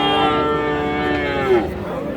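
A cow lows at the Raniganj cattle market in Dinajpur, where small budget cattle and Friesian heifers are sold. One drawn-out, fairly loud moo holds steady, then bends at its end, with market crowd noise underneath.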